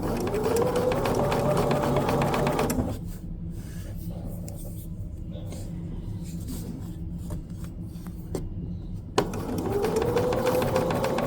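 Sewing machine stitching a short seam during fusible raw edge appliqué quilting hums steadily for a few seconds, pauses while quieter rustling and handling carry on, then runs again at the end.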